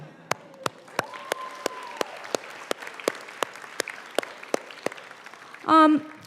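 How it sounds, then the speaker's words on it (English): Scattered, sparse claps ring out at a white coat ceremony for a physician assistant class, with a few voices and a brief loud vocal burst near the end. "round of applause from everybody"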